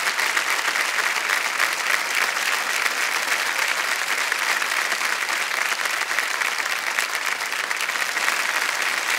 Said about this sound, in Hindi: तालियां बजते हैं जोरदार।